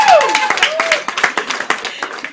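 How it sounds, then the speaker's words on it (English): An audience claps loudly and close at a comedy show, with distinct individual claps and whoops rising then thinning into scattered claps. "I don't know why you're clapping"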